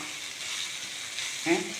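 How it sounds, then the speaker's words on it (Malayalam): Onion sautéing in a pan on a flat's kitchen stove, a continuous close sizzle with a brief louder burst of stirring near the end. "ഈ ഉള്ളി ഒന്ന് വഴറ്റി വരാൻ മതി കേട്ടോ"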